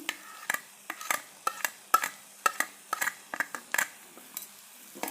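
Eggplant dish stirred in a pan after a sprinkle of cumin, the spatula giving sharp repeated scrapes and taps against the metal in a steady irregular rhythm, close and fairly loud, with no talking.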